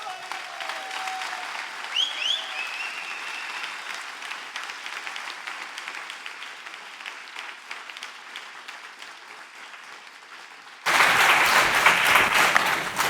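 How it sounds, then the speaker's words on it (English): An audience at the MoodleMoot 2019 keynote welcomes honorary doctor Martin Dougiamas: low crowd murmur with a few high whistles, then loud, dense applause bursts in over the final two seconds. "Je vous demande d'accueillir sous vos applaudissements le docteur honoris causa"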